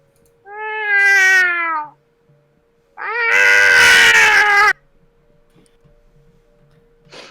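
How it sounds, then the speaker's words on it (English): An angry cat gives two loud, drawn-out yowls close by, the second harsher and more strained. A quiet pause separates them, with faint ticking underneath. "Why is that cat so angry?"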